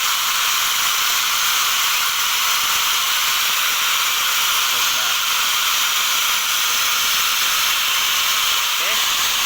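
A steam iron hisses steadily, running off a 24-volt inverter built with four HY4008 MOSFETs and a small wound transformer. The broad, constant hiss stays loud and unbroken throughout, with faint chirps near the end.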